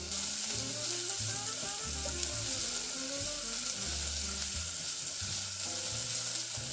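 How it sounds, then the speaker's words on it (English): Onions and red peppers sauté in olive oil in a pot, giving a loud, dense, continuous sizzle at close range with no talking. "We are going to start with sauteing our onions and our red peppers."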